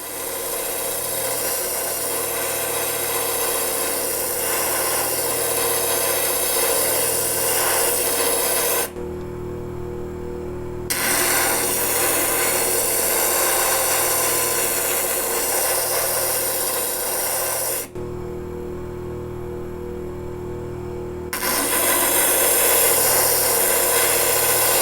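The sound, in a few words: grinding a rough gemstone on a preforming wheel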